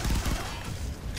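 Pistol shots crack in the neon shooter game Far Cry 3 Blood Dragon, a few quick loud reports at the start trailing into a noisy, echoing game soundscape.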